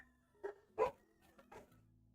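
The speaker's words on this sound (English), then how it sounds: "sorry, my dogs." Dogs barking indoors, a few short barks and yips in quick succession, faint and somewhat distant beneath a low background hum.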